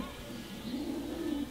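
A female racing pigeon coos softly, one low rolling call near the end over a quiet background.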